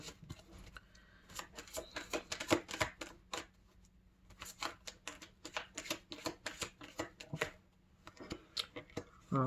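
Tarot cards are shuffled by hand in quick bursts of riffling and slapping, close and crisp, with short pauses between rounds and a soft voice murmuring at times.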